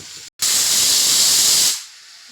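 A pressure cooker cooking chicken with sesame lets out a loud, steady hiss of steam. The hiss lasts over a second, then cuts off.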